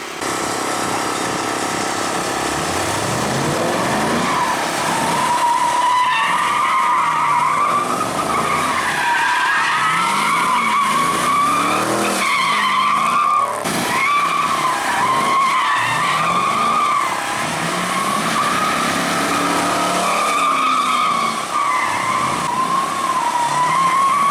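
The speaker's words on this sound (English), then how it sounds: "here is two of these Chevrolets drifting" Two Chevrolet cars drifting at a motor show in Killarney, tires skidding and squealing in long wavering wails over engine roar, loud and continuous throughout, with no voices.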